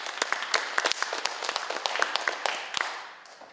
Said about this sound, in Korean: 여러분 박수로 맞아주시기 바랍니다